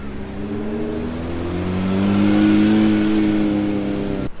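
A Porsche 992 GT3 RS revs at a Monaco supercar gathering, its engine climbing in a loud, rising, sustained note that swells in the middle and cuts off sharply at the end.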